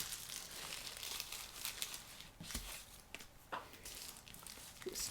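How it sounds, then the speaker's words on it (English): Tissue paper is crumpled and crinkled by hand during collage making with leaves and a Gelli plate, producing faint, continuous rustling with a few sharper crackles, close to the ear. "And I'm going to use some tissue paper."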